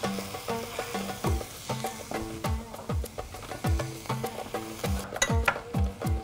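Onions sizzle and fry in a pan for a chicken tajine makhzani, with repeated knocks and scrapes of a utensil stirring them in an uneven rhythm, close and fairly quiet.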